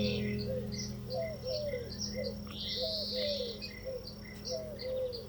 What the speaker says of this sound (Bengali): কোথা থেকে জানি একটা টার্টেল ডাব ওর পিছনে এসে বসে এবং ও ডাকাডাকি করা শুরু করে দেয়।